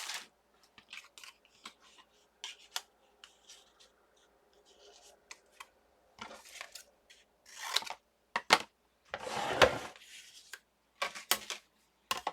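Scissors cut brown paper in a quiet craft space: sparse snips and paper rustles, then denser crunchy cutting and handling of paper in bursts toward the end.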